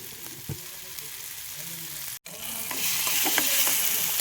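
Onion masala sautés in a pan for a quick egg curry, a continuous soft sizzle with intermittent scraping stirs. The sound briefly cuts out, then comes back slightly louder.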